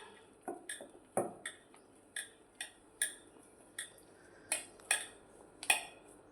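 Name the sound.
stirring farali bhajiya batter in a bowl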